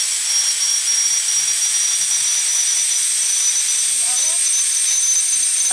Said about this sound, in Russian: Воздух выходит.